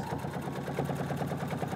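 A Husqvarna Viking sewing machine stitches with a steady, rapid mechanical whir and needle rhythm, running continuously at close range through the whole short stretch without any talk.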